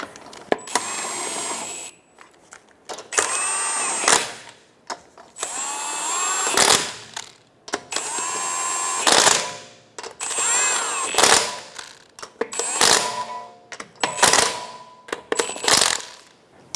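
Lug nuts are tightened in a star pattern on the wheel of a 2012-2016 Subaru Impreza, heard as about eight loud, whirring, metallic tool bursts separated by short pauses.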